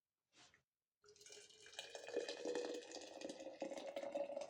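Water is poured into a glass jar while canning a lecho salad. A brief faint sound comes first, then a steady, close splashing trickle that runs for several seconds.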